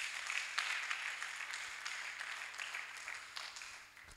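A church congregation at a prayer service applauds in a steady, moderately distant patter of claps that holds for a few seconds with no voices over it.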